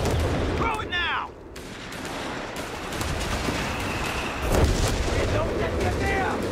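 Gunfire and explosions in the WWII strategy game Company of Heroes 3, with a dense, continuous barrage of shots and booming blasts under shouted soldier voices.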